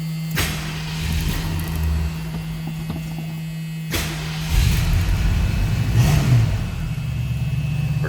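A 1970 Ford Mustang coupe's 302 V8 cranks and fires, idles, then revs up briefly and settles back to a steady idle, heard up close with no talking.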